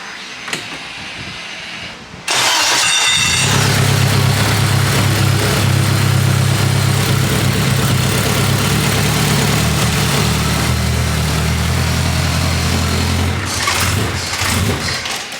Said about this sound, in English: Let it idle for a little bit so we can check the oil.